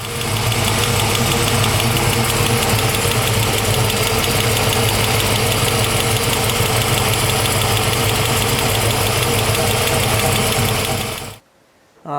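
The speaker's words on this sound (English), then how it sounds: "there's a noise coming from the motor" A 1970 Camaro SS with a 396 big-block engine runs steadily up close, a loud continuous idle carrying a rhythmic knocking or ticking from the motor, then cuts off abruptly near the end.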